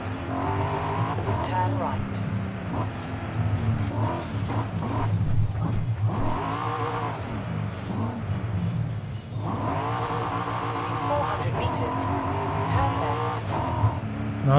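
Car engine revs and rises in a Forza Horizon 5 racing game, with repeated surges and a tire squeal as it corners, while someone talks over the driving.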